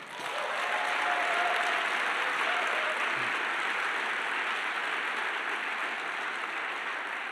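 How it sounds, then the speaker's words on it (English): A live audience at a motivational speaking event bursts into sustained, dense applause that holds steady and loud for about seven seconds with no voices over it. "Give your dream a round of applause."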